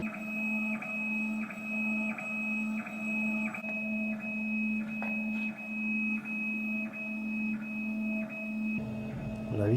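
A laser engraving machine working a 300 mm wide pass on acrylic for an illuminated sign, a steady whine with tones that step up and down in a regular back-and-forth rhythm, loud and continuous.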